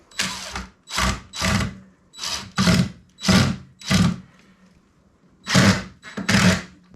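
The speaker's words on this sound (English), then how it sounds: "I'm going to drill these into the same batten" A power drill whirs in repeated short bursts, about eight in a row with brief pauses, driving screws into a wooden batten close by.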